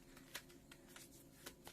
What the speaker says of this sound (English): You can see I'm shuffling them.